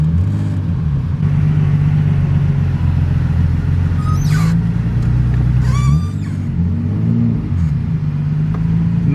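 A Nissan Skyline R33 engine rumbles loud and close from inside the car, droning steadily with a low throb and rising briefly as it revs, alongside faint squeaks.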